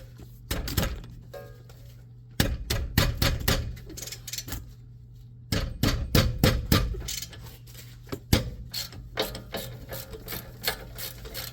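An 18 mm rear brake caliper bracket bolt on a Dodge Grand Caravan is loosened with a ratchet, giving close, rapid clicking bursts separated by short pauses and the occasional metallic knock.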